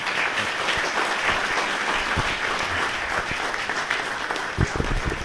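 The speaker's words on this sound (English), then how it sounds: "So big applause for Marko Rankovic" Conference audience at Agile Day 2025 applauds a presenter, sustained many-handed clapping at moderate loudness, a thick even patter with a few louder slaps standing out near the end.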